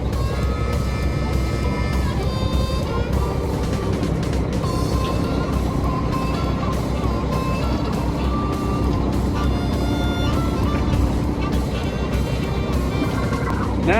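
A farm auger runs steadily, moving cattle feed off a belt, a loud continuous mechanical drone with grinding and rattling that stays level for the whole stretch, no talk over it.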